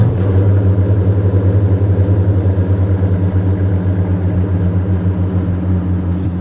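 A Koenigsegg Jesko Absolut engine runs loud and close in a steady, even rumble with a slight pulsing throb and no clear rise in revs.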